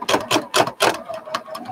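Sewing machine driven slowly by a foot pedal on a non-skid board, its needle thumping in a steady rhythm of about four strokes a second, close and fairly loud, slowing and thinning toward the end.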